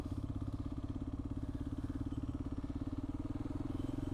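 A diesel motorcycle engine idles close by, its low, even thumping pulses repeating steadily throughout with no break or change in pace.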